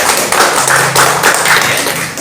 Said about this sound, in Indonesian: Tepuk tangan untuk Bu.